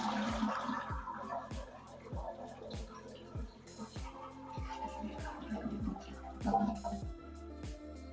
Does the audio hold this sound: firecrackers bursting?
no